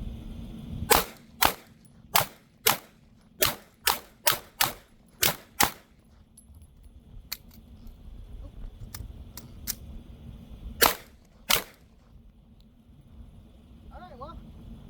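A Glock 48 pistol fires Winchester white box 115 grain rounds outdoors on a range, a fast string of about ten sharp cracks followed by a pause and two more shots, with voices in between.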